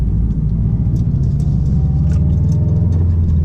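A Subaru WRX STI fitted with a Borla catback exhaust cruises casually, its exhaust giving a constant, loud, deep burbling drone from inside the car with slight shifts in engine pitch.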